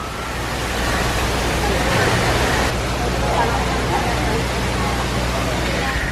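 A waterfall at Disney's Animal Kingdom theme park roars as a loud, broad, continuous rush that stays steady throughout, with faint crowd murmur in the background.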